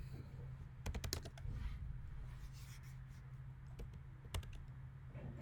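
Someone types commands at the Windows command line on a computer keyboard: quiet, close key clicks come in short irregular bursts with pauses between them.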